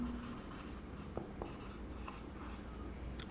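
Marker or chalk writing on a board during a soil mechanics classroom lecture, with short scratchy strokes and taps over a steady room hum, and no voice.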